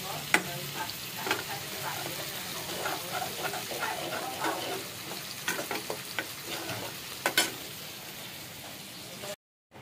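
Egg curry sizzles steadily in a hot pan while a spoon scrapes and stirs in irregular strokes, close by, with no talking.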